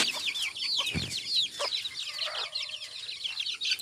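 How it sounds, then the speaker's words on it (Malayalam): Native hens clucking and chattering close by, several birds overlapping continuously, with short squawks and no voices. "അപ്പോൾ അതിൻ്റെ വലിയ കോഴികളാണ് അടുത്തത്"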